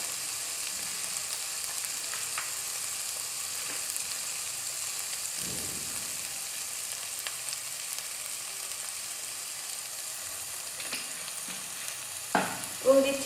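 Chicken filling for spring rolls is stirred with soy sauce and tomato sauce in a pan. A faint, even sizzle holds throughout, with a few soft stirring knocks and then louder scraping near the end.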